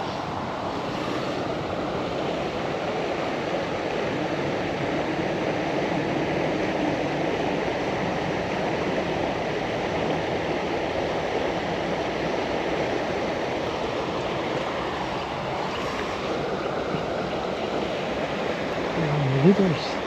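River water flows steadily nearby, a broad continuous rushing wash that holds even from start to finish, with a brief faint voice near the end.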